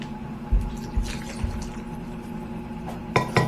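A cup of water poured into a baking bowl during home cake mixing, a soft steady liquid fill with a few light knocks and clinks of the bowl, no voices.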